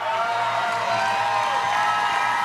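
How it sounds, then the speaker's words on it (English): Crowd at a SteelFist 97 Muay Thai event cheering and roaring for the fighters, a steady loud wash of voices and whoops filling the whole stretch without a break. "make some noise for these warriors"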